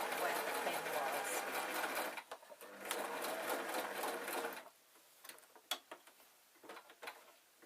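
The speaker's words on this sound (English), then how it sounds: "I'm going to leave the needle down and then I'm going to continue sewing again" A sewing machine stitches a denim skirt in a fast, even whirring run that stops briefly, resumes, then gives way to a few soft clicks and handling noises of the fabric.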